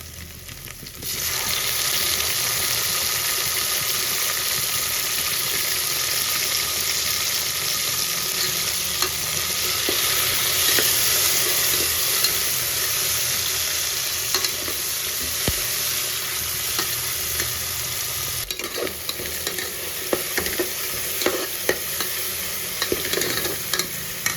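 Ginger garlic paste fries in a pan for pulav, giving a dense, continuous sizzle and hiss up close, with occasional stirring scrapes and clicks, briefly dipping partway before resuming at full strength.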